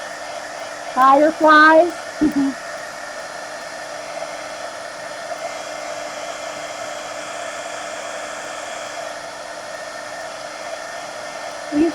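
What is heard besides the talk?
hair dryer drying paint splatters in an art journal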